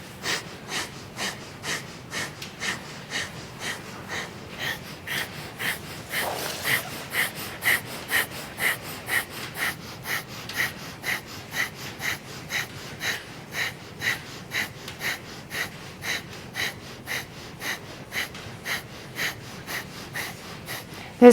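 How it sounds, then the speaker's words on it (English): Rapid rhythmic breath of fire from Kundalini yoga, sharp nasal exhalations pumping in a steady, even pulse for the whole stretch, close and moderately loud with no talking. "Begin the breath of fire once more."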